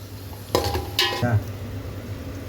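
Onions being stirred into hot oil in a pan while cooking tomato rice: a few distinct spoon clinks and scrapes against the pan over a low, faint background.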